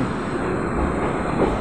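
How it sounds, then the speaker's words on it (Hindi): A train arriving at Lucknow Junction rumbles steadily with a dense roll of wheels on track, moderately loud and continuous, with no voices heard. "लखनऊ जंक्शन पहुँचती हुई ट्रेन।"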